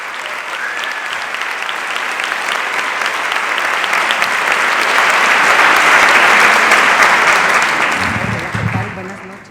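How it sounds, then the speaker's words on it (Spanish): Sustained audience applause welcomes speakers at an evening talk on smartphone awareness, building steadily to a loud, dense roar of clapping before fading away at the end. "recibámoslos con un fuerte aplauso."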